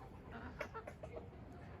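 Fayoumi chickens in a coop give a few soft, quick clucks, faint and close together over low background noise.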